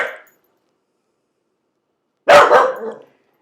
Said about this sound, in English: my apologies for the barking